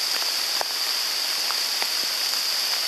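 Rain falling in wet woods, a steady hiss with scattered close drips and drops, no talking.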